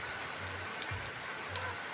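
Rain falls outdoors during a bird-hunting outing, a steady, fairly faint hiss of drops with a few soft patters and low rumbling noise underneath, no talking.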